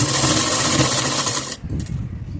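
A sewing machine runs fast and steady while stitching a pant pocket, a dense close whirring that stops abruptly partway through, leaving quieter handling noises.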